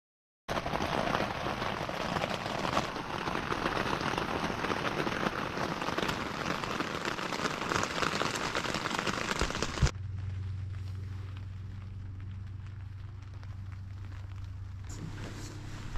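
Steady rain patters and hisses on a surface for about ten seconds in Washington State, then cuts to a quieter scene with a low hum and only light dripping.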